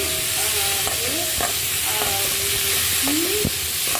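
Potato and pointed gourd curry fries in hot oil with panch phoron, a steady, dense sizzle running throughout with light scraping of stirring, close and without speech.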